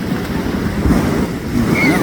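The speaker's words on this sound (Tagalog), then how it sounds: "Dagko ay balod mga choy" Big ocean waves rolling and crashing beside a boat off the boulevard in Dipolog City, heavy surging water mixed with blustery wind buffeting the microphone, loud and continuous, with faint voices in the background.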